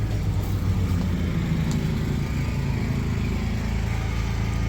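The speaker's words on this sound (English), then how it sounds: "my neighbor is mowing" A neighbor's lawn mower runs nearby as a steady, loud, droning engine rumble with no breaks, heard alone without talk.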